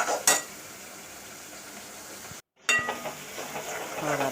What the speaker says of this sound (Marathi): चांगलं तेल सुटलं ना तोपर्यंत आपल्याला हे चांगल्या प्रकारे फ्राय करायचं आहे मीडियम गॅसवर